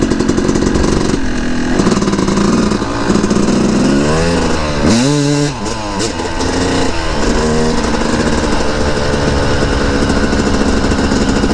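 A dirt bike engine drones loudly and steadily up close while riding, its pitch rising and falling as the throttle changes, with gear shifts and revs partway through.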